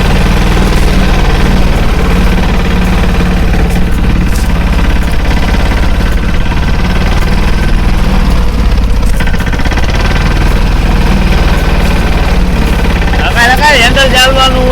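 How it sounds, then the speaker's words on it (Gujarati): An empty tractor engine runs steadily, a loud, continuous low rumble that holds through the whole stretch, with voices talking over it. "હવે ટ્રેક્ટર થઈ ગયું છે ખાલી, જઈ રહ્યું ટ્રેક્ટર ખાલી"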